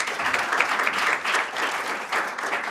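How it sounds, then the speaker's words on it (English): Audience applause after a talk at a panel discussion on security challenges, a steady wash of clapping from a crowd that holds evenly for the whole stretch with no voices over it. "Let us clap for him again, please."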